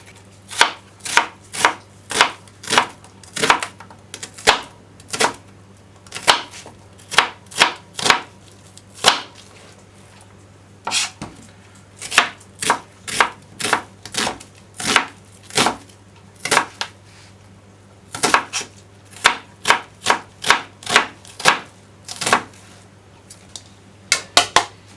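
Rapid knife chopping of onions for a Japanese-style borscht, a steady run of sharp, close thuds on a cutting board with short pauses between bursts, heard alone.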